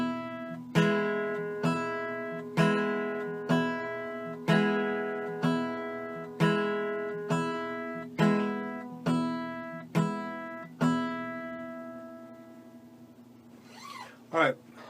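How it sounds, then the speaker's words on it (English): Fingerpicked acoustic guitar, a melody note landing with every thumb strum, about a dozen evenly spaced ringing strums, close and alone, ending on a brief bent or sliding note. "I'm going to play one melody note for every every strum of the thumb"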